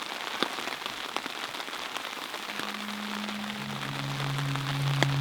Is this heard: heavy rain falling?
yes